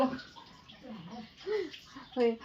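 Water runs from a tap in a home, a soft splashing rush beneath people talking close by in Marathi, with voices rising over it through the short stretch.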